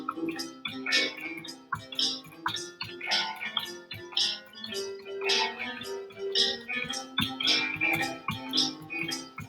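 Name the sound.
boogie woogie reduced bass line played on piano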